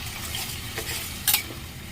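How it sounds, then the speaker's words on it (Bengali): Spiced masala with tomatoes frying in a pan while a spoon stirs it, a soft sizzle with a sharp scrape of utensil against metal near the end. "ঢেকে দিয়েছিলাম একটু আগলা করে নাড়িয়ে নেবো"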